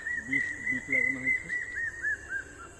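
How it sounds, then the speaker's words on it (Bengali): A bird in a village field gives a run of about ten short, evenly spaced whistled calls, clear and fairly close, while a person talks over the first half. "পাখির ডাক নিশ্চয়ই তোমরা শুনতে পাচ্ছ।"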